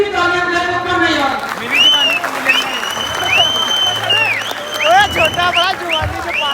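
Applause from a gathering honouring long-serving courier staff, steady clapping under a lively room where voices and whistle-like tones ring out over it.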